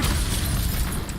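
Confringo spell explosions in a video game: a loud, dense blast of booming noise with a crackling, shattering texture that fills the whole brief moment without letup.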